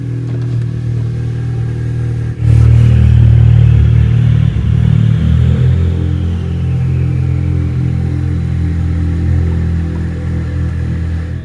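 Tuned Ford Fiesta ST180 race car engine running close by with a deep steady rumble, then revved in a loud burst that settles back to a throaty idle, echoing off a nearby wall.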